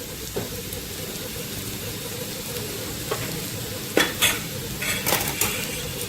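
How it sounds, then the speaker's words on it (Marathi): A spice mix of fennel and coriander powder is stirred and roasted in a pan for a sour-sweet bitter gourd dish, giving a steady sizzle with scraping spoon strokes and a few louder clinks near the end. "पुन्हा एकदा याला चांगलं हलवून घ्यायचं। खरपूस भाजून घ्यायचं"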